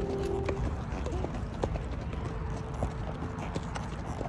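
Horse hooves clip-clopping at a farm, a steady series of sharp, moderately close knocks with a faint background hum and no clear talk.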